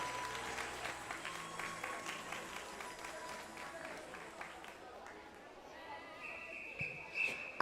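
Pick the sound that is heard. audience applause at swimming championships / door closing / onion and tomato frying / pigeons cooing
audience applause at swimming championships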